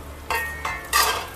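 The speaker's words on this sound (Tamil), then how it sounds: "இது எல்லாமே ஒன்னா போட்டு வறுக்கலாம்" Spices fry in oil in a pan, three short bursts of hissing sizzle as they are stirred, close and fairly loud over a quiet background.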